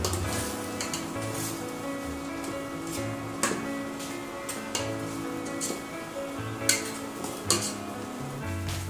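Catfish being stirred with spring onion and coriander in a pot for an Isan-style dish: steady sizzling with soft scraping and occasional sharp clinks of a utensil against the pot.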